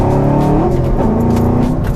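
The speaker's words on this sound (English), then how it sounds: "It's so hard to just drive a manual car normally because it's so much fun to just get through the gears" A modified, quick manual car accelerating hard through the gears, its loud engine note rising in pitch, dropping briefly at a shift, then climbing again, close and continuous with no voices.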